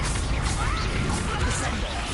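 A Confringo fire spell bursts in Hogwarts Legacy with a loud, dense crashing blast and swishing rush that fills the short moment, heard close amid game combat noise.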